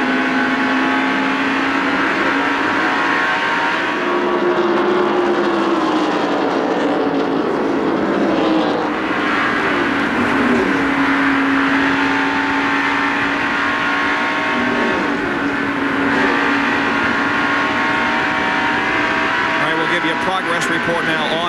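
A 1989 Winston Cup stock car engine screams at high revs, rising and falling as it accelerates and lifts off, heard loudly from an in-car camera.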